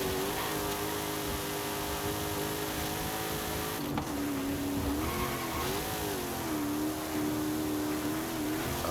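Engine of a fast car in Forza Horizon 5 holds a steady rising whine with tire squeal as it accelerates, loud and continuous, with a brief dip near the middle.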